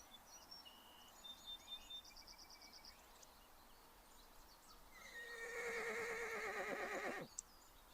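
In a Smilodon video game, a horse gives one loud, drawn-out whinny near the end, preceded by quiet scattered chirps against a faint hum of ambience.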